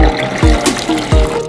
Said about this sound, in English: add hot water to your cup.